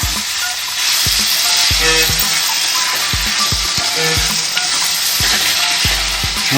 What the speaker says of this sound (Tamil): கிளறி விடணும்.